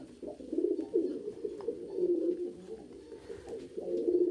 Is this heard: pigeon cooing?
yes